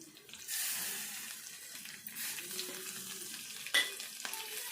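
Aloo bonda filling of potato, chopped coriander and thinly sliced green chili being mixed by hand in a bowl, a steady close scraping and stirring with soft broadband texture and a few brief knocks near the end.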